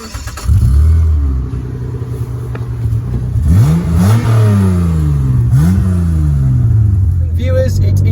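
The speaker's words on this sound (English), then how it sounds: "Accelerating from 0 to 40 mile an hour" A Mitsubishi Galant with a 2.5 V6 accelerates from a standstill up to about 40 mph. Engine tone climbs through several gear changes, loud and close with a steady rumble, and a voice can be heard under it.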